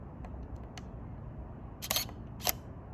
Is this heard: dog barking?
no